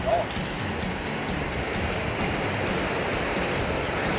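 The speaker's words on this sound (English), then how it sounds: "that's fast water down" Fast-flowing water in a North Georgia trout stream rushes in a steady, dense broadband roar, loud and unbroken throughout.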